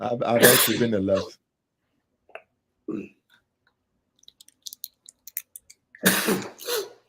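Someone talks, then after a pause a single short sneeze-like burst, followed by faint clicks and more speech.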